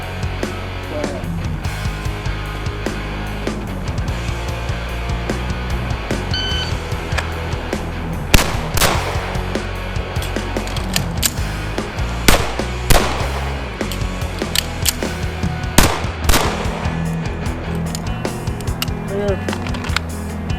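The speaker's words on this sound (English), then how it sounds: "with the CZ75 SP-01 Cajunized, we're going to do double action from a holster, 2 reload, 2 reload, 2" Cajunized CZ75 SP-01 pistol fired at 7 yards in a double-action reload drill, with several sharp, loud gunshots in pairs separated by pauses, over steady outdoor background noise.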